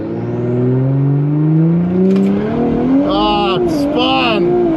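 An Audi fitted with an Integrated Engineering stage 3+ turbo upgrade and injectors on E70 fuel launches down a quarter-mile drag strip, its engine note rising loudly through the gears with brief tire spin, while someone talks over it.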